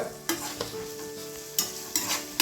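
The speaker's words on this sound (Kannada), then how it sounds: "ಈಗ ಹಾಕೊಂಡು ಸ್ವಲ್ಪ ಫ್ರೈ ಮಾಡ್ಕೊತೇನೆ ರೀ ಮತ್ತೆ ಚಂದ ಫ್ರೈ ಮಾಡ್ಕೊತೀನಿ ರೀ" Garlic and curry leaves fry in a pan for kadale bele kosambari, a soft sizzle punctuated by several crisp scrapes of a spatula at an uneven pace.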